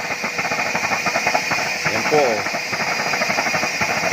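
A 3-inch splash-proof pressurized single burner roars steadily and loudly under a pot of rapidly boiling water, a constant close rushing blast while someone talks over it.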